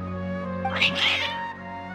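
Cats meowing in the Genshin Impact video game, a couple of agitated, drawn-out cries rising over a steady tonal music bed, mid-distance and moderately loud.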